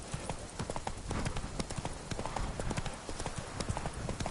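Horse hooves clip-clop steadily in The Witcher 3 as the mount trots, with a close, even rhythm of sharp hoof strikes running throughout.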